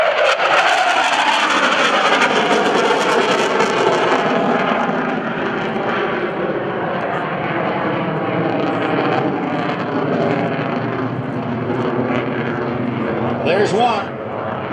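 An F/A-18C Hornet jet roars loudly overhead while flying a double Immelmann at an airshow, a sustained powerful engine rush that slowly fades, with an announcer's voice running over it.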